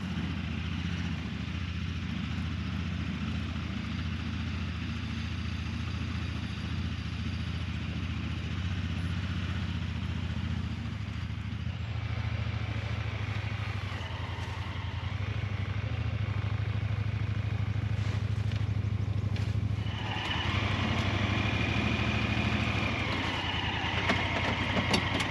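A truck engine idles steadily as the vehicle backs up, a low continuous rumble close by that shifts slightly in tone partway through, with no talking over it.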